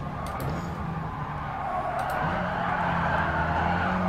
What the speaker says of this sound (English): Braking.